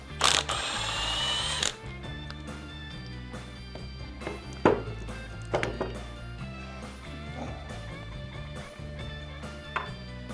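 A hand ratchet clicks in short bursts while a car engine's belt tensioner is undone, with a brief whirring spin at the start followed by scattered metallic clicks and clanks, close and fairly quiet.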